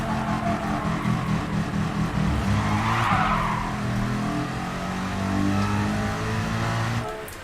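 Race cars lapping the Dragon Trail Gardens circuit in Gran Turismo Sport on PS4 drone with steady engine tones, a burst of tire squeal mid-lap, and fading near the end.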